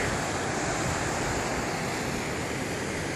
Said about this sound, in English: Some big waterfalls coming down. It's a lot of water.